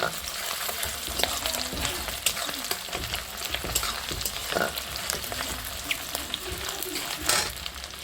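Cauliflower and flat beans frying in oil in a home kitchen, a continuous close crackling sizzle with scraping stirs and small spatters throughout, fairly loud.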